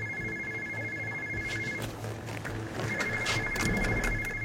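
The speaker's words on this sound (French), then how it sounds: "le téléphone sonne." A telephone rings at a police station, its double-tone electronic trill sounding twice, interrupted by a short gap, over a low steady hum and faint background noise.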